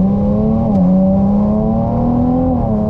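A Ferrari 296 GTB in hybrid mode, its engine kicking in and revving steadily up close, a continuous loud drone with the pitch dipping once then rising gradually, no talk.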